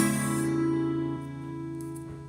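A single guitar chord from the intro of a song is struck and left to ring, sustaining and slowly fading over about two seconds.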